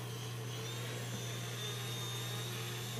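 The motors of an experimental tricopter with a tilting front motor whir steadily, a continuous buzzing hum with a high motor whine, moderately loud and heard alone.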